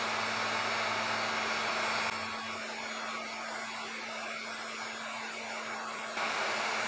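A heat gun shrinks heat-shrink tubing over a soldered wire joint for an RV electrical hookup, a loud, steady blowing whoosh with a constant hum that dips slightly in the middle and then returns to full strength.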